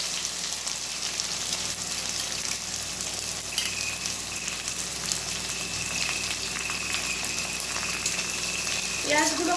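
Chopped onions fry in a pan of hot oil with dried red chillies, bay leaf and whole cumin for a mutton curry, giving a steady, even sizzle that carries on without a break.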